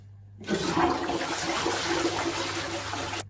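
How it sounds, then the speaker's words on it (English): A toilet flushes close by, a sudden rushing gush of water that holds steady for a few seconds before cutting off. "Then the toilet flushed."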